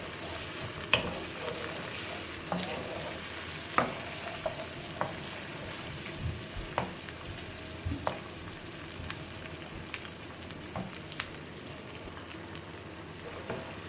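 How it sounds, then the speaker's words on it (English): Chopped onion and tomatoes fry in oil over a low flame for a mixed vegetable curry, a steady close sizzle punctuated by regular light scrapes and knocks from stirring. "keep stirring, give it a good stir, so they're well mixed in oil."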